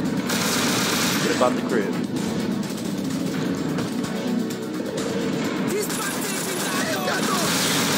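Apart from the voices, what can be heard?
gunfire in the video game Scarface: The World Is Yours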